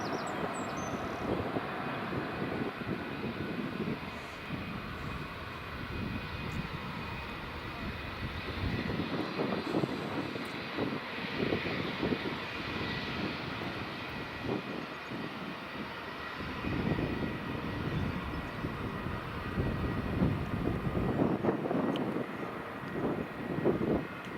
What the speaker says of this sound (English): That's the Eurowings just taxiing out.